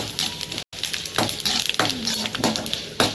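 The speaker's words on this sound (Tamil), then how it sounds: "இப்போ வறுத்துடலாம்" Whole cinnamon, cardamom, clove, black pepper and fennel frying in a hot pan, a steady close sizzle broken by scraping stir strokes and a brief gap, with no talking.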